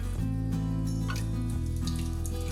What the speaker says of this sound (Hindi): तो पूरा पानी निकाल ले रही हूँ मैं।